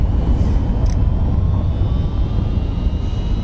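An MD-11 airliner rolls out after landing at Liege in a flight simulator game, a dense, loud, steady engine and wheel roar with a brief higher whine partway through, no talking.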